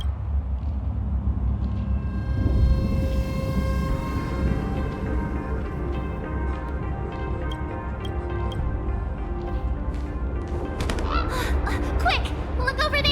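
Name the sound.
bird calling in Honkai Star Rail video game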